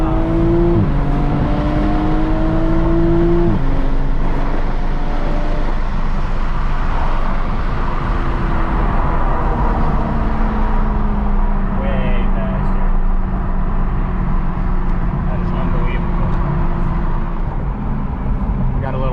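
A 2021 Toyota Supra with a JB4 tune and locked ECU at full throttle on a highway, its engine droning steadily under loud wind and road noise, with gear changes and someone talking over it.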